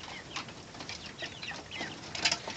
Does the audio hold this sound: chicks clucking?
yes